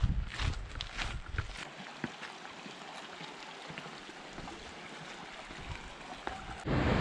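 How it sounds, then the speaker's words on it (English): Alberta Falls waterfall running beside a hiking trail in the Estes Park area of Colorado, a steady broadband rush of water heard from a moderate distance, with a few faint footsteps and knocks in the foreground. "the falls are actually running pretty good for August"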